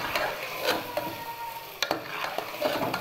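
Green chilies frying and being stirred with mashed eggplant for a rustic baingan bharta give a steady soft sizzle with scraping stirs and a few sharper clinks, close and continuous throughout.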